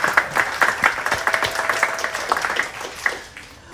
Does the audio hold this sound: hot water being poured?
no